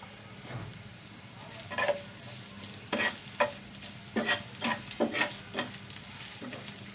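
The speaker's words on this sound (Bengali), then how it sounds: "পেঁয়াজটা আমি ভালো করে লাল করে নেব।" Chopped onions fry in plenty of mustard oil for cauliflower greens, with a steady soft sizzle and a handful of scraping stirs from a spatula against the pan, close and alone without talk.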